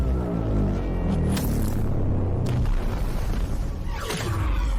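Gorgon's Blast anime attack effect: a loud, dense roaring blast with deep rumbling boom and sweeping whooshes, sustained without pause throughout.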